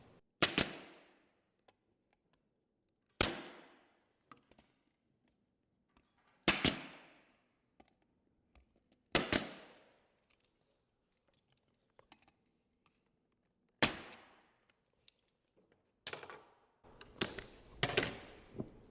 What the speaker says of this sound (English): I can shoot a couple staples in